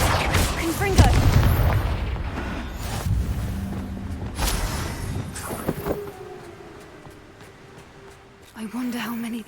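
Confringo fire spell in the Hogwarts Legacy game goes off as a few sharp, booming blasts amid combat effects, loud and close, with someone talking over the action.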